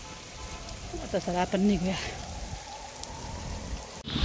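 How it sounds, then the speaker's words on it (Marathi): Light rain falls steadily outdoors as a soft, even hiss, with someone speaking briefly over it partway through. "तर आता पाऊस थोडा कमी झाला आहे"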